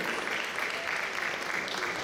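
A crowd at a college basketball event applauds a senior player with steady, even clapping that fills the space at moderate loudness throughout.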